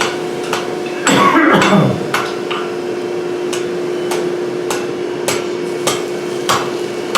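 A hammer folds a metal pipe closed over packed sand, landing a steady series of sharp, ringing strikes, with a denser flurry of blows early on, over a constant background hum.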